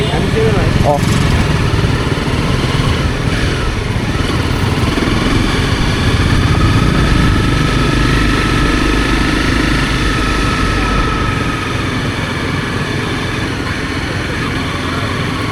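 A motorcycle engine droning loud and steady throughout a mountain road ride from Kathmandu toward Pokhara, with wind rush over it and voices talking intermittently.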